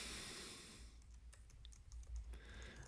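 Quick, irregular clicks of typing on a computer keyboard come in close, light bursts, following a loud wash of noise at the start.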